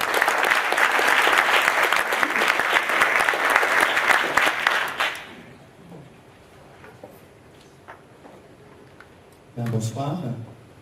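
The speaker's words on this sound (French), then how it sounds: "et on peut l'applaudir" An audience at a book presentation bursts into loud, dense applause for about five seconds, then it stops abruptly, leaving quiet room noise before a voice speaks near the end.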